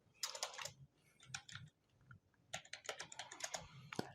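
A computer keyboard being typed on to enter a label in a school management system form: two bursts of rapid, light key clicks separated by a short pause, close and quiet with no speech.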